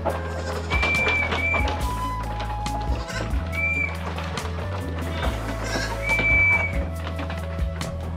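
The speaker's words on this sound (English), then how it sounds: "The moment they will hear the whistle, I will get them loose out of this goat house" Short, high whistles calling goats repeat a few times at intervals over a low, steady hum, with faint goat bleats in the background.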